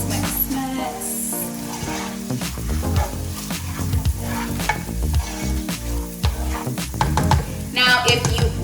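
Sausage and garlic fry in a pan while being stirred, a steady sizzle under repeated scraping and clattering stirs that stay close and loud throughout.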